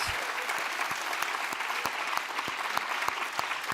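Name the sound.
audience applause for Patricia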